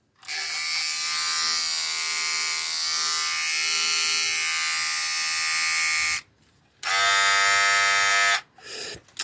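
A Remington HG5000 hair clipper running with a loud, close, high-pitched electric buzz that cuts out briefly, starts again and then stops.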